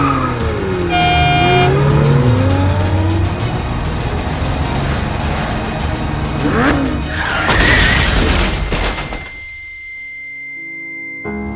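Car engine driving in the Roblox game Brookhaven, a steady motor drone with tire skids and revving, loud and continuous before cutting down near the end.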